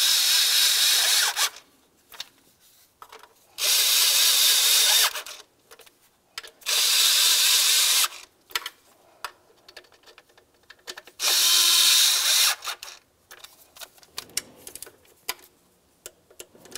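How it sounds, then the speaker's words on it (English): A power tool snugs the 10 mm intake manifold mounting bolts on a 2005-2010 Dodge Dakota in four loud, separate bursts of whirring and ratcheting, each a second or two long, with clicks and handling noise in the gaps. "Start in all four of our 10 millimeter headed mounting bolts, snug them up, and torque those to 65 inch pounds."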